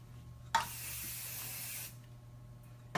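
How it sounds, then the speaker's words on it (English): Hairspray hissing onto hair while a ponytail is styled: one close, steady spray burst lasting about a second and a half, then a short click of the nozzle near the end. "So you make sure that you constantly spray the hair."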